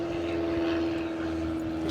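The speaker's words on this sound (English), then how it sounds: "we got a plane above going" A propeller airplane passes overhead, its steady engine drone holding a clear tone at moderate loudness for the whole short stretch, with no speech over it.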